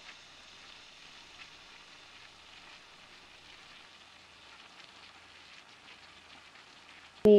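Baingan bharta with tomatoes sautéing in a pan, a soft steady sizzle and crackle like light rain running evenly, ending with a brief louder clatter.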